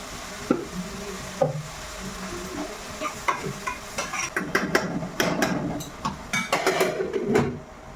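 Onions fry in a pan with salt and turmeric, a low sizzle broken by repeated scraping stirs of a spoon that come quicker and louder toward the end, with no talking.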